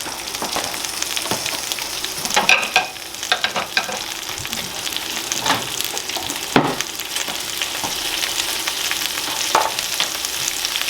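Spinach and artichoke dip ingredients cooking down in a pan, giving a steady loud sizzle with scattered crackles and occasional spoon scrapes and stirring clatters, no talking.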